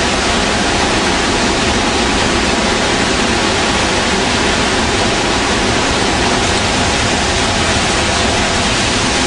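A loud, constant rushing roar of falling water with a hissing spray, unbroken and close by for the whole stretch, at Iguazu Falls on the Brazilian side.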